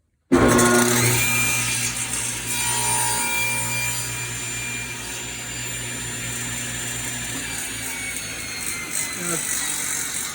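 A table saw cuts wood at a 45-degree miter using a jig: the motor spins up sharply and holds a loud, steady whine, with the blade grinding through the board in a continuous, close rasp.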